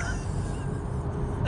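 A vehicle horn gives one loud, close, sustained honk that lasts the whole short moment, with a bright, steady tone.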